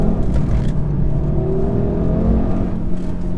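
The engine of a 2018 Audi RS3 drones steadily from inside the car during a drift, a loud low hum with a rising tone that holds without break, and no voices over it.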